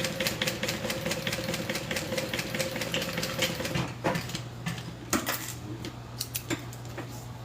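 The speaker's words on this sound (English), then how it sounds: "I don't have to worry about this crazy fast sewing machine jerking it." A very fast sewing machine stitches fabric at home, a rapid mechanical rattle with quick repeated clicks, fairly quiet and close, briefly pausing and restarting near the end.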